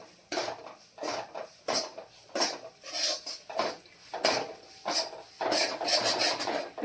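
Coarse wheat flour is stirred and roasted in a pan over a low flame for gundar pak, giving repeated scraping strokes of a utensil against the metal in an uneven rhythm, close and moderately loud.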